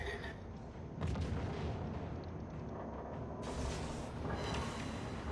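Naval artillery firing in the World of Warships video game, with heavy booming shots and a rumbling, mechanical roar that swells at two points over a constant loud background.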